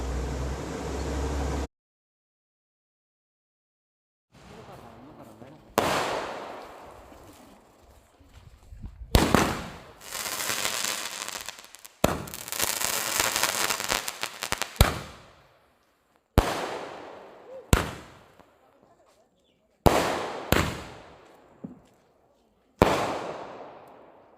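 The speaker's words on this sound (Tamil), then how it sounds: "ஜாலியாக கொஞ்சம் கிராக்கர்ஸ்லாம் வெடித்து என்ஜாய் பண்ணிகிட்டு இருந்தோம்" Firecrackers bursting at an anniversary celebration, with a run of sharp separate bangs spaced through the clip. A dense crackling stretch sits in the middle, and several of the blasts ring out and fade afterward. Nobody speaks.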